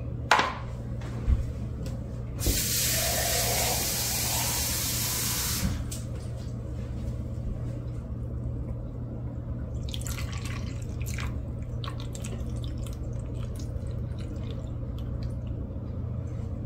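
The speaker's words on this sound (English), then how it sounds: "Put some water in here." Water pours in a brief rushing splash into an ice cube tray, followed by a long stretch of quiet drips and small trickles close by.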